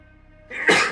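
A single sharp sneeze bursts out loud and close at a tabletop role-playing game session, following a brief quiet lead-in with no talking.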